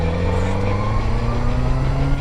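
A motorcycle engine revs, either a single-cylinder or a classic four-cylinder, with a loud, steady, close drone and a slowly rising pitch throughout, no talk.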